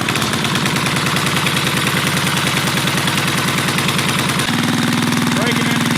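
A drag mini bike's small engine with a performance cam idles loudly and close, a fast choppy putter that holds steady throughout and shifts slightly in tone near the end.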